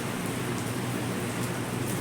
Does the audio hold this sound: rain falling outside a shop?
yes